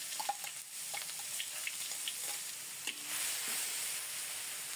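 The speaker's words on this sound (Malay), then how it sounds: "Tumis bahan-bahan ni sehingga pecah minyak." Soft, steady sizzling of blended spice paste frying in oil, with a few light clinks and scrapes of a utensil against the pan.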